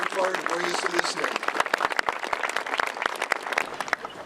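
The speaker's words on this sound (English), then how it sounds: "Please give them a round of applause." Audience at a Lincoln Bicentennial ceremony applauds the Bicentennial Commission members: dense, steady clapping from many hands filling the room, with a few voices briefly audible at the start.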